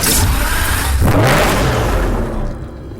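A Lamborghini Murcielago LP670-4 SV engine in the Need for Speed Hot Pursuit racing game revs hard and close, rising and falling in one continuous loud roar.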